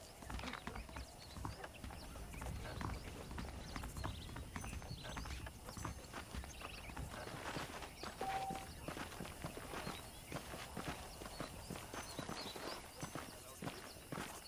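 Hooves clip-clop at a steady walking pace in the video game Red Dead Redemption, with a horse snorting now and then and a voice talking over it.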